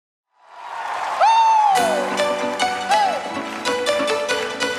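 A church congregation at a Christmas service breaks into applause after a voice, clapping rising quickly and continuing steadily.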